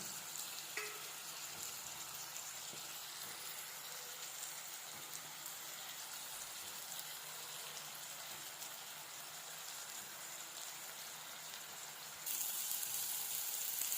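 Tomatoes and masala sautéing in a pan for a gravy, a faint, steady hiss of frying that runs evenly throughout with a slight rise near the end and no one speaking.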